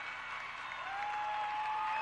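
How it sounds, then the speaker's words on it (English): A high school basketball crowd gives a standing ovation at a 1995 regional championship game, sustained applause with a bright steady tone running through it, heard at some distance in a gym and gradually swelling. "The Hersey Huskies getting a standing ovation from their crowd"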